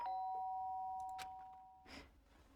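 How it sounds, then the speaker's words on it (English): A doorbell rings in the video game Danganronpa, a clear two-note electronic chime that sustains and fades. A couple of soft clicks and a brief muffled noise follow near the end. "The sharp sound of the doorbell pierced my sleepy haze and pulled me back to the real world."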